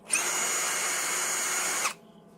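A power drill runs with its clutch engaged while building digital bird meters. It makes one continuous high whirring buzz close by for about two seconds, then cuts off abruptly.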